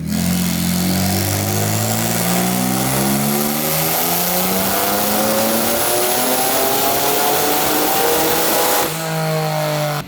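A single-turbo Kia Stinger's VR30 twin V6 on a dyno, climbing through a long, loud full-throttle pull with rising engine pitch, then abruptly backing off before a second rise.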